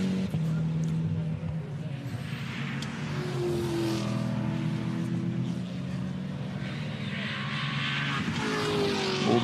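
GT4 race cars take a cautious qualifying outlap at the Most circuit in the GT4 Central European Cup, engines droning steadily with shifting pitch at middle distance, while a commentator talks over them.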